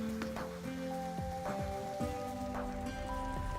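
Steady rushing and splashing of a waterfall inside an indoor rainforest greenhouse, a continuous wash of falling water with faint bird-like tones and chirps layered over it.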